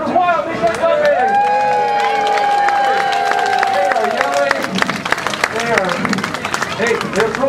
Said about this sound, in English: And the crowd goes wild, they start clapping!